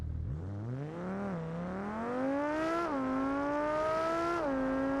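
A high-performance car engine in the BeamNG driving game revs steadily upward through the gears, a loud, close, smooth whine climbing in pitch with brief dips at each shift, alone without talk.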